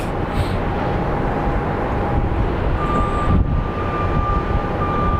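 Airliner engines at Phoenix Sky Harbor airport, a broad steady roar that holds at an even level throughout, with a faint high whine running over it.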